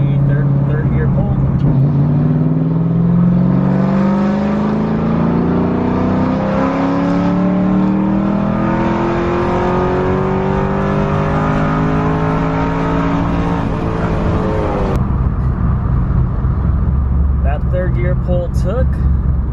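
Cammed Ford Mustang GT with a custom tune and over 400 horsepower pulling hard through third gear, its loud engine climbing steadily in pitch for about fifteen seconds before an abrupt lift-off into a lower rumble, heard from inside.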